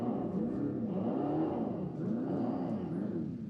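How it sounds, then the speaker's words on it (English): Simulated engine sound from a 2026 Dodge Durango Hellcat electric muscle car: a deep, synthetic roaring drone that rises and falls in pitch in repeating swells, close and steady, with no talk. "these EVs make noise to tell you they're leaving"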